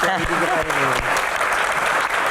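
Studio audience applause for a doctor at an Indonesian talk show, a dense wash of clapping that fills the clip, with a voice speaking over the start.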